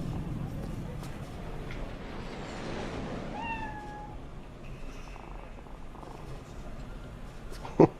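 A cat in Cyberpunk 2077 purrs and growls low and steady, with a brief rising meow midway, close and moderately loud over game ambience, ending in a sharp click.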